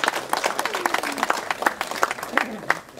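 Gathered audience applauding volunteers at a canal wharf restoration event on the Welford Arm, moderate clapping from a modest crowd with voices talking over it, tapering off at the end.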